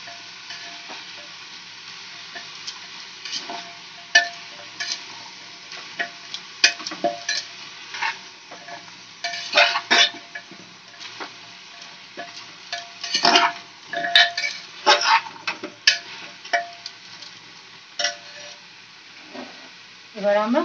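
Vegetables with corn being stirred in a pan for a chicken stew made with no oil, producing a soft, steady sizzle with irregular spatula scrapes and clinks that grow busier and louder toward the middle.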